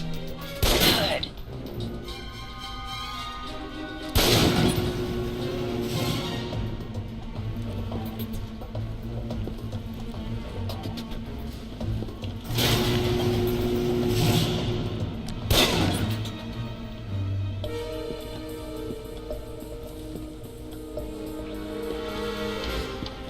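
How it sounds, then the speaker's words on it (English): Pistol fire at targets in the video game Alpha Protocol, several loud gunshots in separate bursts over a continuous game soundtrack and background noise, with no talking. "Now, with the pistol, you'll want to be patient and attack when targets get close."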